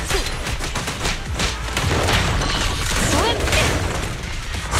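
Gunfire in the video game Zenless Zone Zero: a dense, continuous barrage of game shots and booms layered with effects and character voice lines throughout.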